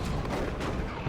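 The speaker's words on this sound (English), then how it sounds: "Look at those missiles from the Sentinel." A Sentinel fires a barrage of missiles in the Dawn of War 2: Retribution strategy game, a dense, booming volley of rapid blasts heard briefly and loudly.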